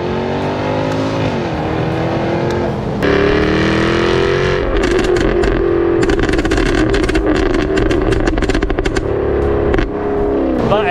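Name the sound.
Jaguar F-Type V8 exhaust revving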